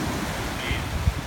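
Ocean surf on a St. Maarten shore rushes in a steady, loud wash with wind buffeting the microphone and one low thump near the end.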